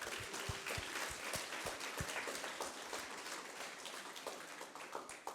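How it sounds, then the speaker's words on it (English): A crowd at an interschool Minecraft build challenge claps steadily for several seconds, a dense patter of many hands with a few louder individual claps near the front. "big round of applause"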